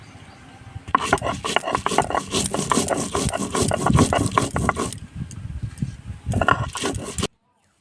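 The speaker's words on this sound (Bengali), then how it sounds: "এবার শুকনো লঙ্কা বেটে নেব।" Dried red chillies are ground on a stone, with repeated gritty rubbing strokes that pause briefly, resume, then cut off abruptly at the end.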